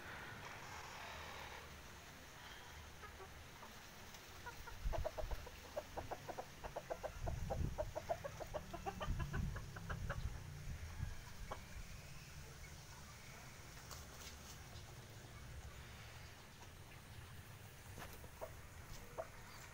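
Chickens cluck softly and intermittently while being set out in the early morning sun, a quiet outdoor scene with scattered low calls and a short burst of livelier clucking midway.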